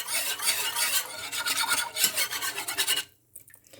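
Gravy seasoned with black pepper is stirred in a pot as part of a roast beef dish, giving a steady close scraping, rasping swirl for about three seconds before stopping, followed by a few faint light clicks.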